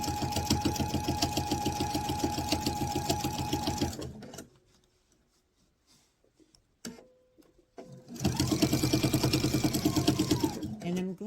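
A sewing machine stitches a fabric travel pouch in fast, steady rhythmic bursts, stops for a few seconds of near silence with light handling noises, then starts up again loudly.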